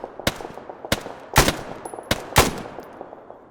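A squadmate fires a rifle in an Arma 3 battle, with five or six sharp, loud reports in an irregular rhythm and fainter distant shots between them.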